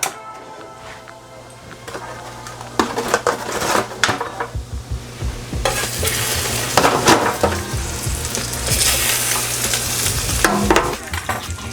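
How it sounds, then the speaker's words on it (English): Salmon sizzles in garlic butter in a pan, a steady close frying hiss with scraping and stirring clatter throughout and louder bursts of sizzle as the fish goes back in. "We're going to introduce our salmon back into the pan."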